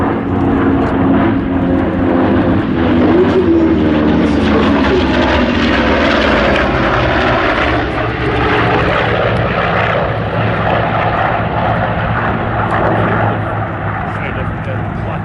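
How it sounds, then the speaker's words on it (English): Corsair propeller fighters roar past at an airshow, a loud sustained engine drone that swells and shifts in pitch as they cross from left, with a commentator talking over it. "And here come the Corsairs from the left."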